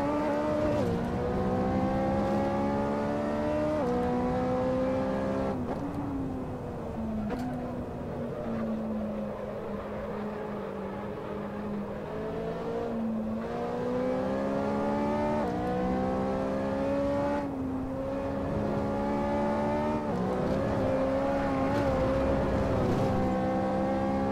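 Race car engines in Assetto Corsa, a McLaren and a Ferrari among them, hold a loud, continuous drone whose pitch climbs and drops through gear changes, close and steady for the whole stretch.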